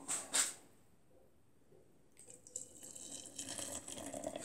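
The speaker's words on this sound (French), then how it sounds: "un peu d'eau chaude" Hot water poured over small blue and orange models to cover them, a steady running, faucet-like wash of liquid that builds from faint to moderate after a few brief clinks at the start, with no talking.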